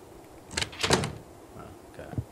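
A door opens in the horror video game From Day to Day. It gives a couple of close creaking and clattering bursts, then a faint rattle and knock a moment later.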